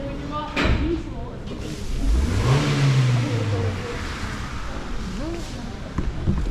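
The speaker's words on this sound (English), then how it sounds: "they're literally revving the engines" Car engines rev in a college automotive and diesel mechanic workshop, one engine climbing and falling through a long rev near the middle, with shop noise and people talking over it.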